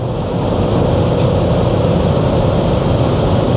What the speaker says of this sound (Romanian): Aici deja auzi și motorul, auzi tot.